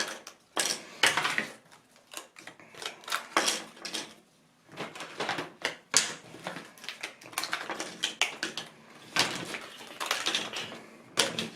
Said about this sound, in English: Then you take out every single one of the puzzle pieces here.